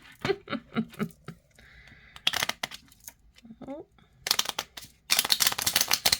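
A miniature borderless tarot deck is shuffled by hand, rapid papery riffles and snaps up close, broken by handling noises, with some talking mixed in.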